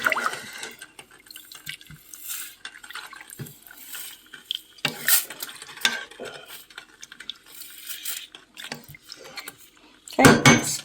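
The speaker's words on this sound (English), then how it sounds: "let's quit stirring it and let it come to a boil" A spoon stirs soup in a pot on a home stove, giving soft intermittent scraping and liquid sloshing, irregular and close, with a louder clatter near the end.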